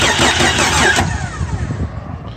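A 1992–93 Jeep XJ cranks loudly through a jumpered starter relay, the starter churning steadily close by without the engine catching, then fading toward the end.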